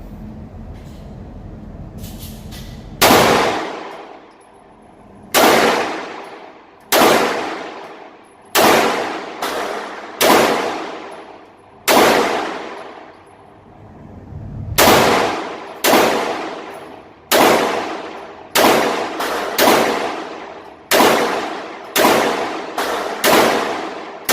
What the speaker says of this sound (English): So I haven't shot this gun in a while, so I don't know if it will malfunction or not